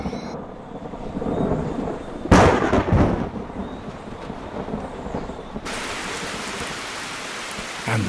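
Heavy rain from a rainstorm pours steadily onto a web spinner's silk tent outdoors, with a loud crashing burst like thunder partway through and continuous dense patter.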